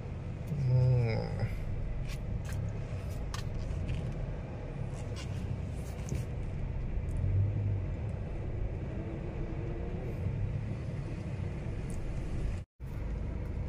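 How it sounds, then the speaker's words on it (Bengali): A car is eased slowly out at low speed, its engine and tyres making a steady low rumble throughout, with a brief voice-like sound near the start and a sudden dropout near the end. "চলো গাড়িটা আবার আস্তে আস্তে বার করে নেওয়া যাক।"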